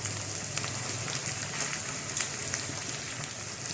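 Potatoes for vada pav filling hitting a hot pan, a steady close sizzle and crackle of frying oil that holds evenly throughout.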